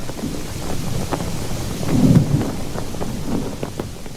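A thunderstorm sound effect of steady rain and wind with a low thunder rumble swelling in the middle, continuous and fairly loud, as a ship's passengers are caught in a storm at sea.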